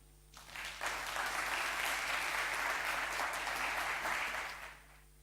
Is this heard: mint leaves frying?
no